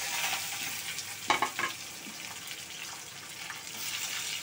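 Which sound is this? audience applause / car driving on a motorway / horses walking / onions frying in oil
onions frying in oil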